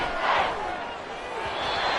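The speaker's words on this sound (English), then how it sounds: "This crowd turning up the decibel level." A roaring stadium crowd in Madden 24 swells in a dense, loud wash of cheering and noise after a sack, with a commentator's voice layered over it.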